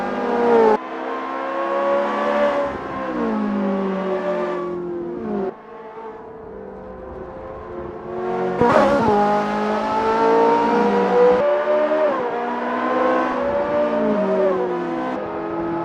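Ferrari F355 Challenge Evoluzione racing in Assetto Corsa at Tortuoso, its engine revving loud and steady through the whole stretch, pitch climbing and dropping with gear changes and a sharp burst of revs midway.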